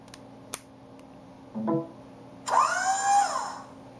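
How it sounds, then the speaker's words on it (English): A short Iron Man-style electronic charging notification on an Android phone plays: a brief click and low buzz, then a rising, shimmering futuristic whoosh that fades out. "So I decided to get that as my charging ringtone"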